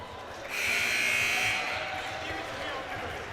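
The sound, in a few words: basketball timeout buzzer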